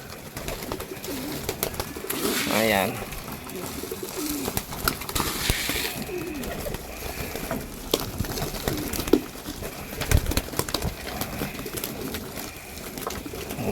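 Pigeons in a loft coo in soft, repeated rolling calls amid rustling and shuffling nearby, while someone speaks briefly.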